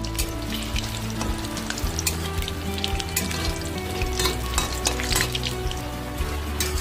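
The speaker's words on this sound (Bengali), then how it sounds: "এবার আমি তেলের মধ্যে বড়াগুলো ছাড়বো।" Pumpkin flower fritters fry in hot oil with a dense, continuous crackling sizzle, close and loud, with occasional sharper pops and low clatters of stirring, and no talking.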